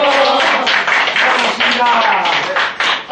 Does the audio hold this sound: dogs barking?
no